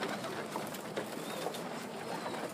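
Pigeons or doves fed corn outdoors at night, soft repeated cooing and light rustling close by, quiet and irregular against a low background hiss.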